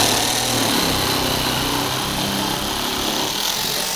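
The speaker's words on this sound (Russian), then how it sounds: "в комплекте идет вот эта углошлифовальная машина, она же болгарка, которая справляется с резкой кровли" An angle grinder from a 3-in-1 tool set cutting roofing material, a loud, steady high-pitched whine with a gritty grinding edge, continuous throughout and close, with no talking.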